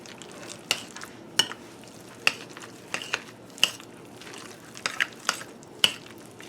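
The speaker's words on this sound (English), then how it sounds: "Alright, so we want to mix this up." A lasagna filling mixture stirred in a pan, with sharp spoon scrapes and knocks against the pan at an irregular, roughly steady rhythm over a quiet sizzle.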